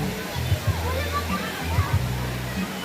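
A large creek flows with a steady rushing, sloshing wash of water, close by and continuous, while people talk over it throughout.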